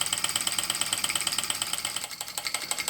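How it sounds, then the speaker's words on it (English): A small Mamod Centurion toy steam traction engine, running on live steam and driving a Baker fan, ticks with a fast, steady mechanical rhythm, a regular clattering beat with a faint whirring hum running underneath. "I want to see what the engine sounds like when I unhook the drive band"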